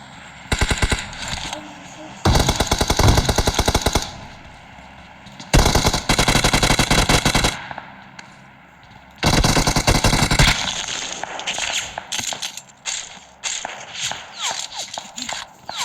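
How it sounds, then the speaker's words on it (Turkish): Bursts of rapid automatic gunfire from a PUBG-style shooter video game crackle in loud volleys separated by quieter gaps, with occasional distant shots and a faint voice underneath. "Arkadaşlar bize sıkıyorlar."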